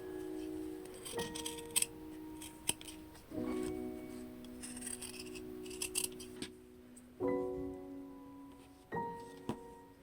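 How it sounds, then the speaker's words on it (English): Scissors snip through felt fabric while cutting out a butterfly shape for appliqué, giving quiet, intermittent cuts with small metallic clinks and faint ringing between snips, close to the listener. "Now let's cut the butterfly out."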